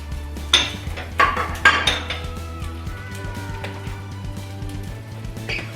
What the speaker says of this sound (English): those chilies will toast up pretty quick